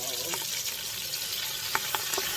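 Collard greens hitting hot oil in a pan, wet leaves making the oil pop and splatter: a soft, steady sizzle broken by several sharp crackles and spits, fairly quiet and close.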